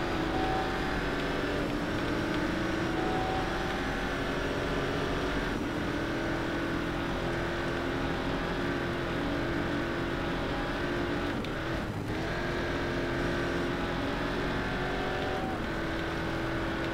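A race car engine in the Race Driver Grid video game, during an endurance race, holds a loud, steady, continuous drone for the whole stretch, with slight pitch shifts as the car runs its line. No talking.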